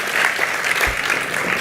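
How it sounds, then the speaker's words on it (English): An audience claps steadily at a 2021 charity gala, a dense and fairly loud wash of many hands. Nobody speaks over it. "please give them a huge, huge round of applause"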